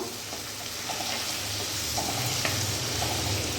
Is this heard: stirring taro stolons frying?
yes